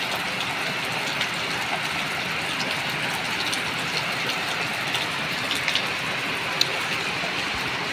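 Steady rain falls outdoors in the Philippines, a continuous dense hiss with scattered drops and small splashes standing out, and no one speaking.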